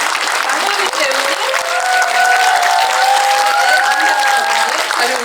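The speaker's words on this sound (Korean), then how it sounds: "네, 박수 부탁드리겠습니다." A crowd applauds as the director and actors walk on at a special talk event for the Korean Netflix series Aema, with steady, loud, sustained clapping and some cheering voices mixed in throughout.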